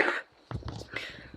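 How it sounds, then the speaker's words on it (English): A person with COVID coughs once sharply, then gives a few rough throat-clearing coughs close to the mic, with a faint breathy voice between them. "I'm gonna be coughing a lot in this video."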